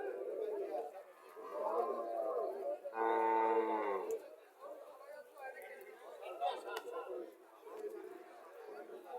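A heifer calf gives a single loud, drawn-out moo near the middle, with people chattering nearby before and after at a cattle market in Miršani Bazar, Chauddagram, Cumilla.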